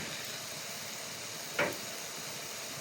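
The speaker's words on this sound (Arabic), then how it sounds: "هذه هنا انسلق، لا تضيفون مي هواي لأن هو أصلا البصل بيه مي." Onion and a single minced garlic clove cook in a pan with little added water, giving a steady soft sizzle and hiss throughout, with one brief brighter burst of spattering near the middle.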